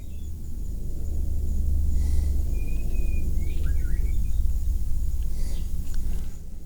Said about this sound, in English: Oh, the birds are singing too.